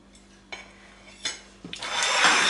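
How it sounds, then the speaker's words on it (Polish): Knife slicing through a plum apple cake on a plate, a few soft scrapes and taps at the start, then a longer scraping cut near the end, close and fairly quiet. "kroimy kawałeczek"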